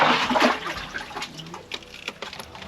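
Spring water flows on a hilltop at Bairava Konda, a close rushing gush that is strongest at the start and settles into a steady, uneven trickle.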